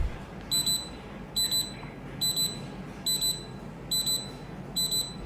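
Locator alert from a JBL Tour One Smart TX transmitter: six evenly spaced bursts of bright, rapid electronic beeping, clear and fairly close, over a faint steady hiss with no talking.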